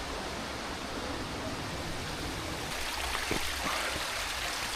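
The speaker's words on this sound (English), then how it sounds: "Okay, so this is the top portion of the waterfall." The top of Hemlock Falls roars with steady rushing water, a loud continuous broadband wash heard close up along a hiking trail, with no voices.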